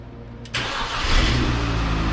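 A Mini Cooper engine started out of gear. A short starter click comes first, then the engine catches into a loud, close, rising rev before settling into a steady run.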